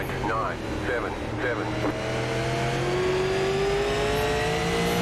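A high-powered SLM race car engine drones steadily around a short bullring track in iRacing, a sustained loud whine with gradually rising pitch and other cars faintly audible, with a voice talking over it.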